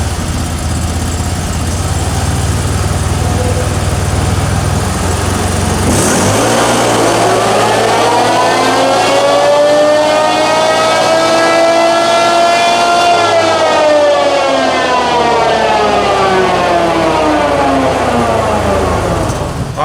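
A CFMOTO UFORCE 1000 side-by-side runs on a dyno with stock tires, tune and clutching; its engine idles low, then sweeps up in a loud sustained rev that climbs steadily for several seconds and eases off, with no talk.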